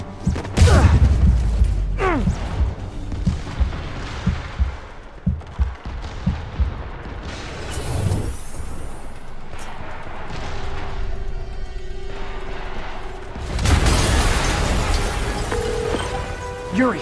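Game explosion in Spider-Man Remastered, a loud booming burst near the start followed by scattered impacts and rumbling, with another heavy blast surge later amid game sound effects and music.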